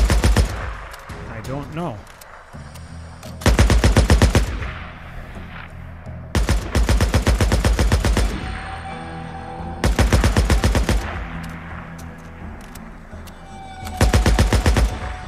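Gunfire in the video game Days Gone: four or five loud, close bursts of rapid automatic shots separated by short pauses, with brief talk in between.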